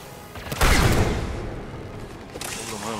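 Gunfire in the Mass Effect 3 video game: one loud, close burst of shots with a booming impact that decays over about two seconds into a rumbling tail, followed by quieter game noise.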